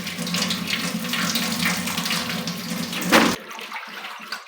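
Tap water runs steadily over spinach being washed in a bowl for chicken palak, a close splashing stream that swells briefly before the flow cuts off, leaving quiet drips and small movements.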